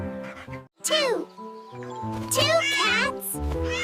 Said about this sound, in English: Two